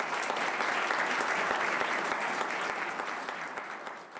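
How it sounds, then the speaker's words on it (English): A conference audience at Eclectic Convergence 2025 applauds during closing remarks, a full, even roar of many hands clapping that slowly tapers off toward the end, with no talking. "a hand of applause for you and also to Deborah and the whole team who puts this on"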